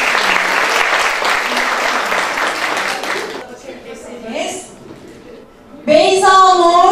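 An audience applauds at a hospital's New Year celebration, with dense, steady clapping filling the hall for about three seconds before it fades, followed by quiet murmuring and a voice speaking.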